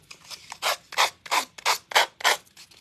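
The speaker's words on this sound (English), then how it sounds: "sanding thing here, and I'm going to go around these edges to take off the excess" Small hand sanding tool rubbed around the edges of a craft piece, giving about seven short, even, close scratchy strokes in a steady rhythm with no talk.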